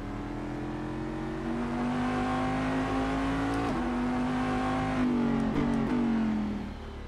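A Cadillac Daytona Prototype International race car in Assetto Corsa revs hard with a raw, buzzing engine note that climbs, drops sharply at gear changes, then climbs again, with no talk over it.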